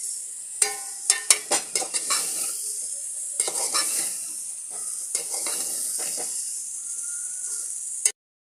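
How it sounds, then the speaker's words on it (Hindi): Methi bhaji with potatoes is stirred in a pan, with sharp repeated clinks and scrapes of the spoon against the metal over a continuous bright sizzle, the strokes coming quickly at first and then easing off. "इस तरह से मिला लेना है आराम से"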